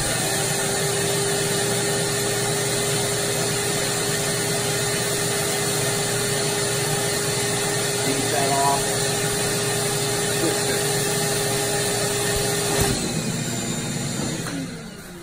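A vacuum sucks air out of a packing envelope filled with fleece wool, a loud, steady droning whir lasting throughout and cutting off near the end.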